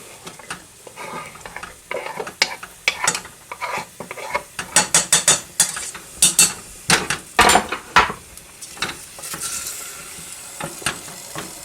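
Garlic and ham sizzle in a home-kitchen pan with irregular stirring, scraping and utensil clatter, close and moderately loud, with no voices.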